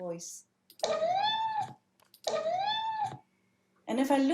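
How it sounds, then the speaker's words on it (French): A cat gives three long, very high-pitched meows with rising and falling tone, separated by short silences, close and clear. "il a tendance à miauler comme ça, d'une voix très très aiguë"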